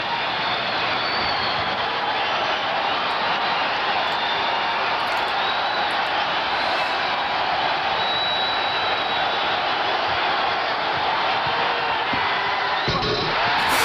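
A basketball arena crowd roars and cheers after a slam dunk in the 1988 NBA Slam Dunk Contest, a loud, dense, sustained wall of cheering and whooping that lasts throughout.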